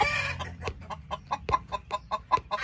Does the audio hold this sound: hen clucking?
yes